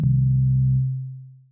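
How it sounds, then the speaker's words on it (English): A steady, loud low sine tone from FM synthesis on a Korg opsix synthesizer, two sine operators with one modulating the other. It sounds alone for about a second, then fades out smoothly. "We've got two sine waves."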